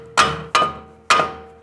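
Four sharp metallic hammer taps ring out at irregular intervals, close and loud, each one decaying quickly, as a Ford Taurus front strut and knuckle are knocked down during a strut assembly replacement.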